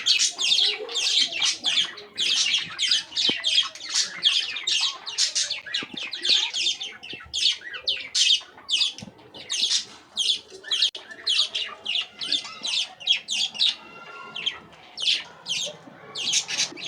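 Pet birds kept in cages on a small home balcony garden chirp and tweet nonstop, a dense, loud chorus of overlapping calls close to the listener.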